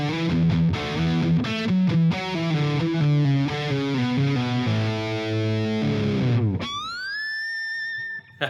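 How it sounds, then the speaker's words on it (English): An electric guitar plays a choppy distorted riff through a Helix rectifier amp model, with rhythmic chugging chords and then a held note bending upward into a ringing sustain. "So let's just show them what the dry sound looks like."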